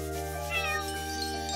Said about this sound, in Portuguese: Ó, um gatinho.